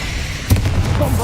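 A Confringo fire spell blast from the video game Hogwarts Legacy, heard as a single short burst with a low thump that dies quickly into a murmur of background game noise.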